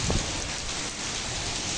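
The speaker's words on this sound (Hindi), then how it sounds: "बारिश बहुत तेज़ है।" Heavy rain pours down in a steady, dense roar that fills the whole moment, loud and close.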